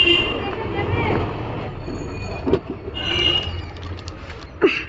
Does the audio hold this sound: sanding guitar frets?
no